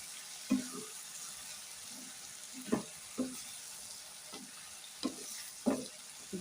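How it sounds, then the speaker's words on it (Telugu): Curry leaves fry with brinjal pieces in a pan, a soft low sizzle broken by about eight muffled stirring knocks at irregular intervals, fairly quiet and without speech. "2 రెమ్మలు కరివేపాకు వేస్తున్నానండి"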